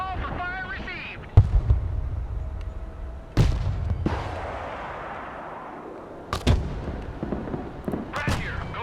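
Artillery fire booms in the video game Broken Arrow: several loud, sharp blasts, each trailing into a long rumbling decay, along with distant crackling impacts and a brief burst of radio-like voice chatter at the start.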